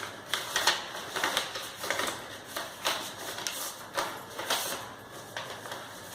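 A sheet of paper cut to equal size is folded over and over by hand, giving repeated crisp, papery creasing crackles in an uneven rhythm, close and fairly loud, with no voice.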